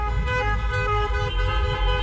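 A continuous, loud chorus of car horns honks together in a parking lot at a drive-in concert, overlapping tones holding steady without a break.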